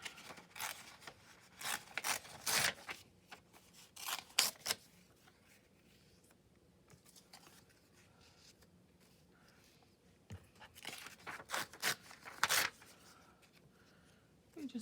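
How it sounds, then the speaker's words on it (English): A thin paper napkin is torn and crumpled by hand, close up. The sound comes as two clusters of sharp, dry ripping bursts with a quiet stretch between them. "tear a little more"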